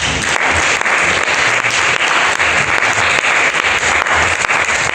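A church congregation applauds continuously, dense loud clapping filling the space throughout with no gaps.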